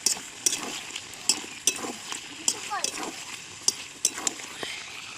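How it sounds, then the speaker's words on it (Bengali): Chicken kosha frying and being stirred in a pan, with a steady sizzle broken by repeated clanks of a spatula against metal, close and fairly loud. "এই দেখো চিকেন কষা হচ্ছে"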